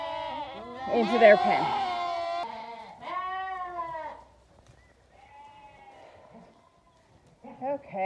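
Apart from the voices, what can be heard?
lambs bleating in a pen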